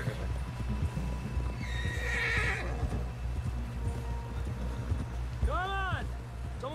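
Horse in Red Dead Redemption 2, steady clip-clop of hooves running throughout under game ambience, with a loud whinnying neigh near the end; a voice talks briefly in the middle.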